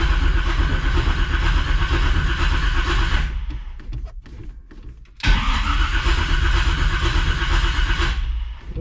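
A 1946 Chevy pickup engine cranks over on a cold start without catching, a steady loud churning grind that drops out briefly midway before the starter resumes cranking.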